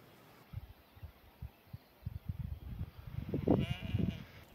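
Sheep bleat along a hillside trail in an Irish mountain national park, soft scattered calls building to a cluster of louder, nearby bleats near the end, with no talking.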